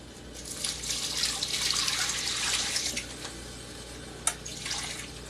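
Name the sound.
tap water running while rinsing cabbage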